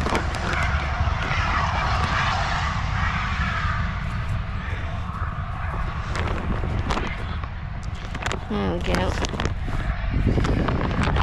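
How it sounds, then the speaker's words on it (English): A broad, steady rumble with chuffing noise rolls on throughout, like a steam train passing nearby, with a voice talking over it. "I think we've got a steam engine, a steam train going past."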